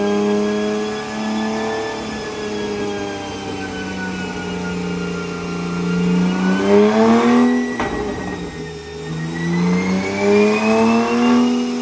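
A Porsche engine on a dyno revs up loudly and holds high, then drops sharply for a moment before climbing again. The sound is close, steady and strongly tonal.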